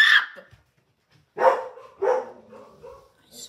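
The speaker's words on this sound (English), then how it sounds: "Hold on, these dogs." Several dogs bark in short loud bursts, one sharp bark at the start, then a pause followed by two more barks and a trailing yelp, fairly close and with no talk over them.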